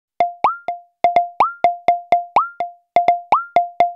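Pitched FM drum hits from a Roland TR-6S, the alternate sound set higher with a sharp pitch bend upward, fired in a steady rhythmic pattern of short percussive plops with brief gaps between groups, clean and alone.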